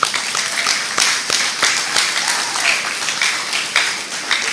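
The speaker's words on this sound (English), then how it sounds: "Can we give them a big round of applause?" Loud, close applause from an audience at an eighth-grade graduation ceremony, with distinct individual claps standing out in a steady rhythm.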